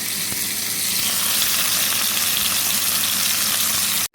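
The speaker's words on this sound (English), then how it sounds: "frying the chicken till we get a bit of browning, a bit of colour" Steady, dense sizzling of chicken frying in a hot pan, continuous and close, cutting off abruptly at the very end.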